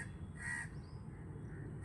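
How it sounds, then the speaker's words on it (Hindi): A single crow caws once, fairly near, against a faint outdoor background hum, with no one speaking. "मैं जब भी यहां आता हूं तो ये कौवे ऐसे ही मेरा स्वागत करते हैं"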